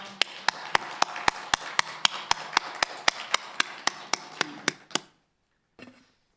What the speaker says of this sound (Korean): 우리도 힘찬 박수로 하나님 앞에 영광 돌리겠습니다.